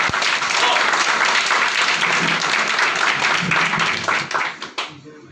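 A seated audience gives a hearty round of applause for out-of-town guests, loud, thick clapping sustained for about four seconds before breaking up into scattered claps and fading out.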